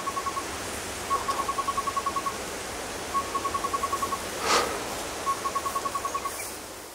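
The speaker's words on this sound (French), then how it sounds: "Le barbillon à croupion jaune est un étrange petit oiseau de l'ordre des pisciformes et de la famille des libidés." A yellow-rumped tinkerbird calls in Zanzibar forest, repeating runs of quick, even, ringing notes in four separate bursts over a soft background hiss.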